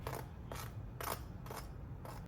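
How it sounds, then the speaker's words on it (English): Scissors snip through a homemade New York-style pizza in five evenly spaced crisp cuts, close and distinct against a quiet background. "the best way to cut a pizza is with a pair of scissors"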